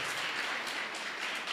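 A church congregation applauds the Lord during a Portuguese-language sermon, a steady wash of many hands clapping together, dense and continuous with no voices over it.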